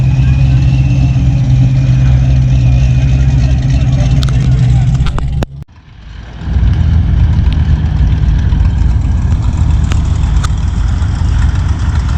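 Cars, including a Mustang and small coupes, roll into a harvest festival car show in Boaz with a steady engine rumble close by throughout. Engine noise briefly dips midway, and a voice talks over it.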